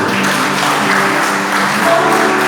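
A church congregation applauds during a family worship service: dense, steady clapping fills the room for a couple of seconds, with faint tonal sounds underneath.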